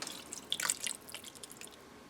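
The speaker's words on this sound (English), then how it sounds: "So we're taking about a cup of water here and put it around the edges." A cup of water is poured around the edges of lasagna noodles in a Ninja Foodi pressure cooker, giving soft splashing and dripping that peaks briefly, then trickles off quietly.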